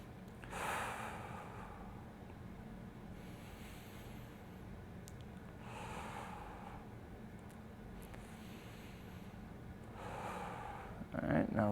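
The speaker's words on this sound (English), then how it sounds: "Let's go about 3 more breaths." Slow, deep breaths during a hip mobility stretch, with soft, rushing inhales and exhales repeating every few seconds, close and quiet over a low background hum.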